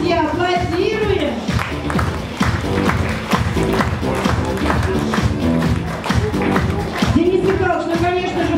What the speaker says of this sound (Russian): Аплодируем, друзья, аплодируем!